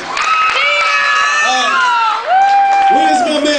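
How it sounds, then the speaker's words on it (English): Crowd applause and cheering for rap contestants on a stage, loud and sustained, with shouts and whoops rising over the clapping and a brief dip before it swells again. "y'all give them a big round of applause"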